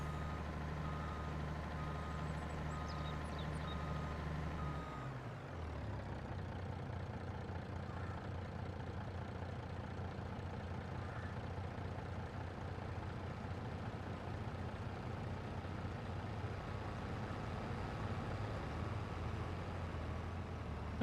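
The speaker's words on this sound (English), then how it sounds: "I better go move this green truck in case the combine wants to drive through here" Green truck on a farm field reversing: a steady, high-pitched reversing beep repeats over an idling diesel engine, then the engine note drops and the beeping stops as it settles into a lower, continuous rumble.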